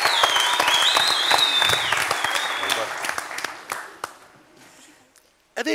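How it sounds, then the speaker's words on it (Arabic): Studio audience applause during a Tunisian family talent show, loud and dense at first, then thinning and fading over several seconds before a final few claps. "تصفيق أقوى برشا"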